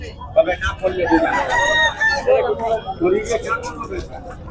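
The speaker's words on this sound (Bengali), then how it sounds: "হাটের মধ্যেই লড়ানো হয় মুরগা। এই দেখো লড়াচ্ছে, দেখো এই দেখো মুরগা লড়াই" Roosters at a cockfight in the middle of a busy weekly village market, with several loud crows and clucks rising over a constant crowd babble and nearby voices talking.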